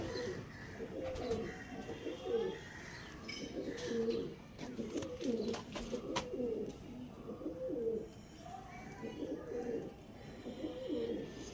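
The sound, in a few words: pigeons cooing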